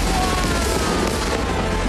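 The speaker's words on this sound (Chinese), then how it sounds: "轮转千彩的烟火在空中绽放" Fireworks exploding over a river during a New Year's Eve show in New Taipei, a dense continuous rumble of overlapping booms and crackles, loud and sustained throughout with no talk.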